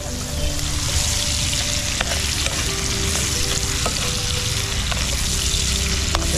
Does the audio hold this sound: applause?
no